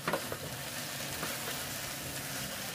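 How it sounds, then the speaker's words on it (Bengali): Water spinach with lentil dumplings and potatoes is stirred in a hot pan, a constant close sizzle with soft scraping strokes and no voices. "খুব ভালোভাবে একটু মিশিয়ে নিচ্ছি শাকের সাথে"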